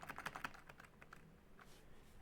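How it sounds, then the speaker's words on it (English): Typing on a computer keyboard during a live Q&A, a quick run of close, crisp key clicks that slows into a few scattered taps, heard alone with no talk. "well, I'm typing it."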